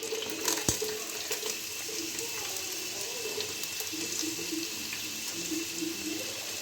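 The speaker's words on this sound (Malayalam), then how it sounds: "ഈ എണ്ണ ചൂടായിട്ടുണ്ട് ഇനി നമുക്ക് സവാള ഇട്ട് കൊടുക്കാം" Sliced onions frying in hot oil for a chicken curry, a soft continuous sizzle and crackle close by, with a sharp clatter near the start and no talk.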